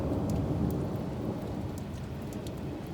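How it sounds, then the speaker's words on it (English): A thunderstorm with pouring rain: a steady, loud roar of heavy rainfall with deep rumbling thunder underneath, continuous throughout and with no voices. "it seems like the rain and the thunder and the lightning follows me everywhere I go"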